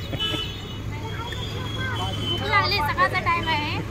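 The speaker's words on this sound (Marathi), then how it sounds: "आमची गाडी आली" A vehicle pulls up amid a low engine rumble, with a brief horn-like tone toward the end, against street noise and a murmur of nearby voices.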